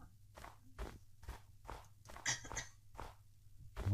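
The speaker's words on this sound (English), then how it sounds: "I can hear my footsteps crunching in it." Close footsteps crunch through snow in a regular walking rhythm, roughly eight steps, over a faint low hum and with no voices.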